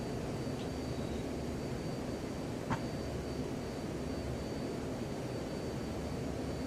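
Steady broadband roar of twin F-14 jet engines at military power during a climb in the MSFS 2020 flight simulator, continuous and even with no talk over it.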